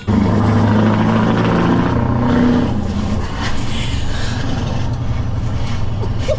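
Straight-piped V8 truck with side pipes towing a trailer roars loudly and steadily through a tunnel, a dense, reverberant engine drone that stays close and constant throughout.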